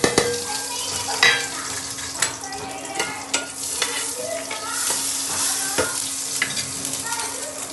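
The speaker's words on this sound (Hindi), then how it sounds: "अब मैं इसको छौंक लगाऊंगी राई और हींग में।" Mustard seeds and asafoetida sizzle and crackle in hot oil, tempering a capsicum and tomato chutney with plenty of garlic and green chilli. Steady close frying hiss runs throughout, with sharp pops and stirring clinks on top.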